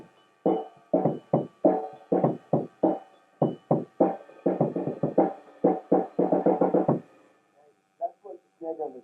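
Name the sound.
snare drum cracking on a drum set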